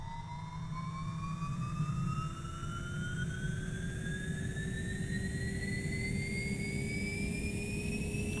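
A jet engine spooling up in a Beech aircraft flight simulator: a steady loud roar with rising whine tones that climb in pitch throughout, continuous and close.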